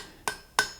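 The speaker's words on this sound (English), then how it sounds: "we can get in with the hammer and clean that up" Two sharp, ringing metal taps from a hammer cleaning up a forged fire poker, spaced evenly and heard close and alone.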